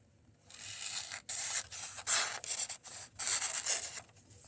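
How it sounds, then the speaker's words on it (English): Scissors cutting through copy paper in long rasping strokes broken by short pauses, a close, dry scraping and rustling with no voices. "it is cutting the copy paper"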